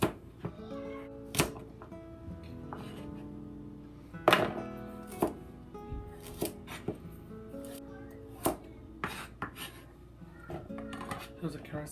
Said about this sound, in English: Just roll the carrots. And cut it properly like this